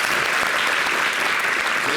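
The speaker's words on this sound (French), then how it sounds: "notre cher John Kiffi, qu'on va applaudir, qui va regagner son siège." A studio audience at a French television show applauds steadily and loudly, a dense continuous patter of clapping filling the whole stretch with no voices over it.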